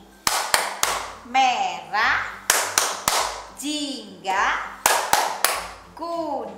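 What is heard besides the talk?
rainbow clapping rhythm, children's clap game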